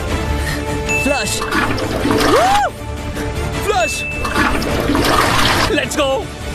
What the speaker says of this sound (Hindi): फ्लश।